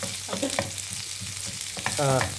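Thinly sliced onions stirred in a pan, a crackling sizzle under scattered scraping knocks and clatter from the utensil, with a brief squeaky tonal scrape near the end, close and fairly quiet.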